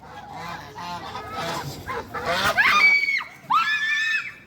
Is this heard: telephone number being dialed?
no